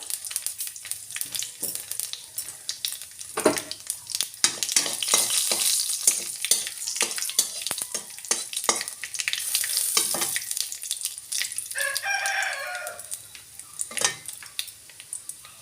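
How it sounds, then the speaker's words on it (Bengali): Black cumin seeds, a bay leaf and a dried chili sizzling in a little hot oil in a pan, a steady crackling fry with intermittent stirring scrapes and a brief clink of utensils. "সামান্য তেল দিয়ে তেলে দিয়ে দেবো ফোড়নের জন্য কালো জিরে হাফ চামচ একটা তেজপাতা একটা শুকনো লঙ্কা"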